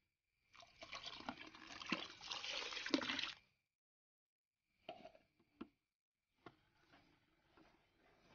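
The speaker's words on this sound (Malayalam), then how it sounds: "ഞാനൊരു 1/2 ലിറ്റർ വെള്ളം കൂടി ഒഴിക്കുകയാണ്." Half a litre of water poured into homemade dish wash liquid, a few seconds of close splashing pour followed by scattered drips and small sloshes, no talk.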